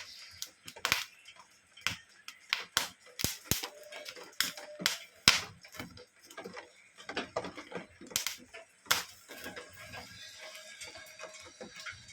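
Corn kernels popping in a pan over a gas flame, sharp irregular pops and crackles, fairly faint and close, with no voices.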